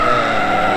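A car drifts on the newly opened Sunrise Circuit, its tires skidding in a loud, continuous screech with engine noise underneath, close and sustained throughout.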